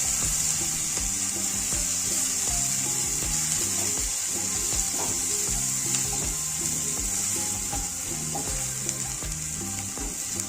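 Chopped onion frying in mustard oil with whole cumin in a Bengali kadai, a steady close sizzle running throughout with light stirring scrapes and no talking.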